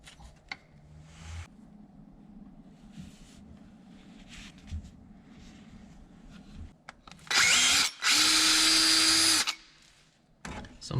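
A power drill works on a tank car, starting with quiet handling clatter and then a loud, high whining burst that runs for about two seconds, stops briefly, and starts again.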